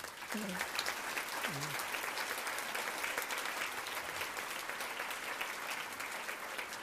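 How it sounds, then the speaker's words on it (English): An audience applauds a band at an event on aging, with steady, continuous clapping heard from a distance and a brief voice near the start. "Let's give them one more round of applause."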